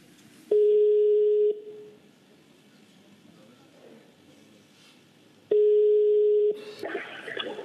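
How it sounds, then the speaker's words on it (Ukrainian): A steady telephone line tone sounds in two loud one-second beeps separated by a pause, placed during a call to a studio from a television talk show, with faint background room noise and a burst of noise at the end. "Набирайте, пожалуйста, нам номер телефона."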